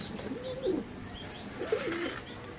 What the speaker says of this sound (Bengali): একটা কবুতর আমার ভেতরে গেছে